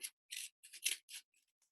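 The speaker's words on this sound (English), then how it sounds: "any excess card that I don't need, I'm just going to trim" Scissors trimming excess card while making a puppet, heard as a quick series of about five crisp, close snips followed by a couple of faint ticks, with no talking.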